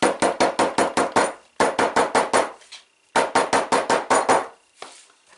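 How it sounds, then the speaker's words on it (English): Sharp hammer taps on glued leather of a card wallet in three quick bursts of about six to eight blows each, loud and close, with short pauses between the bursts. "I tend to use a hammer."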